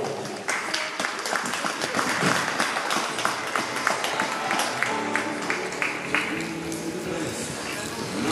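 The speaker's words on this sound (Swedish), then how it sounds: "Applåder." An indoor crowd at a 1.10 m show-jumping event in Eskilstuna claps steadily and densely throughout, while an announcer speaks over the applause.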